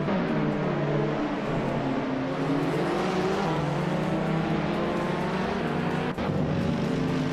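Several race cars roar continuously in a video game, dense overlapping engine drones jostling at close range, with one brief dip near the end and no voices.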